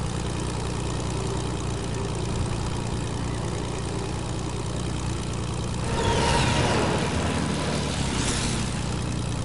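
A video game airplane's propeller engine drones steadily at idle with a low hum, then swells in a louder rush partway through before settling again.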